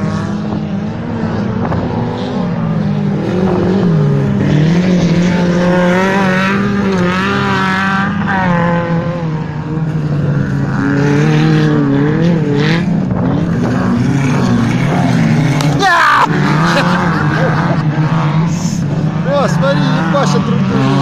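Go-kart engines at a racing competition in Spassky district, a continuous loud buzzing drone with rising and falling pitch as karts pass, near and dense, with voices audible underneath.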